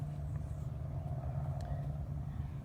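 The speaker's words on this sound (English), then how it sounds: "I don't know if you can hear it, but the ocean, some cars, maybe some neighborhood sounds." Steady outdoor ambience in Laguna Beach: a low, constant rumble of passing cars and distant ocean wash, faint and continuous with no clear voices.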